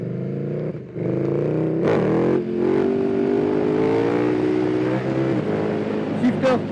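A 2020 KTM 1290 Super Duke R twin-cylinder motorcycle with an Akrapovic exhaust revs lightly, its loud, deep engine note swelling and holding nearby, with a brief blip near the end.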